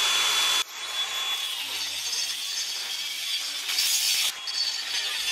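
Old steel pieces, cleaned of loose rust, are cut to size with a power tool: a loud, continuous harsh grinding-saw whine that briefly drops after the start and then runs steadily to the end, close and without voices.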